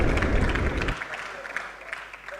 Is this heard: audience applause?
yes